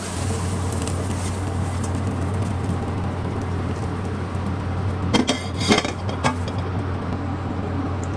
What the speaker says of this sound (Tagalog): Ilipat lang natin ang ating pork steak sa malinis na plato.